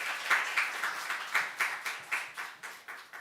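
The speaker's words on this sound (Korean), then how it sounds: "뜨거운 박수." Steady applause from a church congregation at a Christmas thanksgiving service, with a rhythm of bursts and no talking over it.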